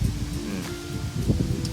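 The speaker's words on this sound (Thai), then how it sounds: "โอ้โห ลมแรงมาก" Strong wind blows outdoors during a noodle-tasting session, a steady rough rushing with gusty rustling bursts, fairly loud and close with no talking.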